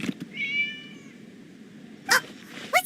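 A cat in Genshin Impact gives a drawn-out meow followed by two short, sharper mews, near and clear over a quiet background.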